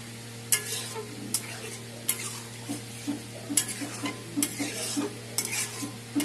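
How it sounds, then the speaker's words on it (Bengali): Peas going into fried spice masala in a pan for Bengali ghugni, heard as a steady sizzle with repeated spatula scrapes and taps against the pan, close by, with no speech. "মশলা কষানো হয়ে গেছে, এখন মটরগুলো দিয়ে দেবো।"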